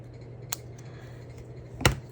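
Two short, crisp snips of scissors cutting a paper witch figure for a craft project, one faint near the start and a louder one toward the end, against a quiet room hum.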